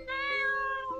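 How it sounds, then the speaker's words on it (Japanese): A single cat meows in the video game Chloe's Requiem, a clear, drawn-out, tonal call lasting about a second, close and fairly quiet, with no other sounds. "もしかしてさっきから聞こえてた猫の声って"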